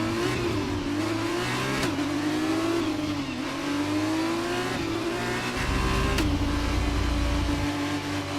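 Formula 2 race cars revving on the starting grid in an F1 career-mode video game, a loud continuous engine whine rising and falling in pitch with a deeper rumble joining near the end.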